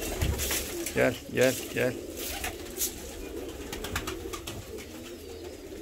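Fancy pigeons cooing in a crowded loft, several soft rolling coos close by in a quick series, followed by a man calling to the birds over quieter background cooing and rustling.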